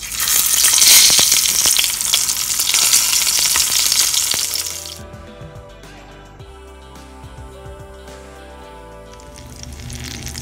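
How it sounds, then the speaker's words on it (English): Stuffed eggplants filled with sesame seed powder dropped into a frying pan of hot oil, a loud close sizzle that roars for a few seconds then settles into quieter, steady frying. "this sesame seed powder mixed into the eggplants and just drop directly into the pan."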